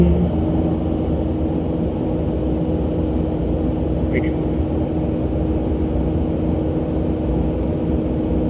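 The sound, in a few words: Kubota SVL 97-2 track loader engine running at full throttle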